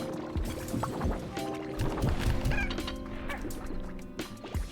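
Chickens in the game Slime Rancher, a close flurry of clucks and honking squawks overlapping over a few seconds, with no talking.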